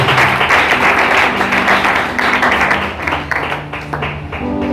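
A church congregation applauds to acclaim Jesus, with sustained, loud mass clapping and a faint musical tone beneath it that slowly thins out.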